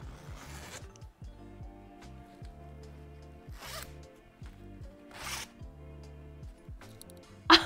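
A zipper on a crocheted pencil case is zipped open and shut several times in a row, with steady rasping strokes close up and a short louder zip at the end, against a quiet background.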